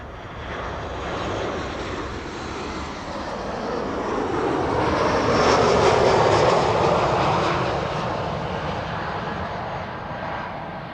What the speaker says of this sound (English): Returning from Hamburg, 737-800, 43 minutes the flight time.